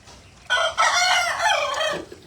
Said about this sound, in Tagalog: maingay na yung manok ni Kuya.